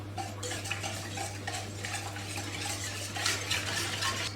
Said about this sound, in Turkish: Bunları böyle bir karıştırıyorum. İçerisinde mayamı eritiyorum.